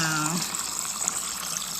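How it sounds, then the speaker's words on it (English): Water runs steadily from a tap as a glass or bottle is filled, a continuous close splashing hiss, with a brief voice sound at the start. "Let me get some water."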